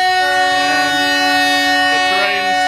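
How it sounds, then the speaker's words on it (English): Trains pulling away from the platform at the Russian children's railway, a loud sustained horn-like drone with steady tones over low rumble and crowd noise, close by, with faint voices in the background. "So the trains are leaving now from the platform"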